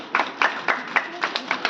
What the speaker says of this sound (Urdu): تالیاں بجائیں۔